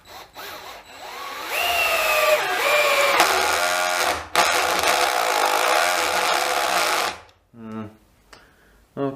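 A Dewalt DCF610 cordless screwdriver drives a screw in several whirring bursts, the motor pitch dropping under load, with short pauses and faint clicking between runs.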